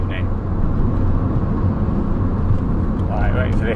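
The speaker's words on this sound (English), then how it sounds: "waiting for this car to get past" A car goes by on a dual carriageway, heard from inside a Ford Puma as a steady, loud roar of road and engine noise that holds level throughout.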